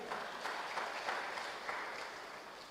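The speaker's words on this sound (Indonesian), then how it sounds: "Yang setuju tepuk tangan buat Allah kita." A church congregation claps hands during a Christmas sermon, a moderate, fairly faint patter of applause that slowly tapers off.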